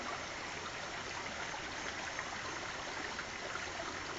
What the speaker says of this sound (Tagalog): ito pong mga tubig na to na dumadaloy po dito